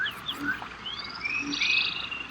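Chirping, whistle-like frog calls rise and fall amid a damp, lively tropical rainforest background in the rain, several calls overlapping softly.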